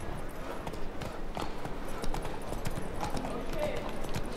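Horse hooves galloping at a steady rhythmic clip-clop in the video game The Witcher 3, moderately loud and continuous, with a voice speaking over the hoofbeats.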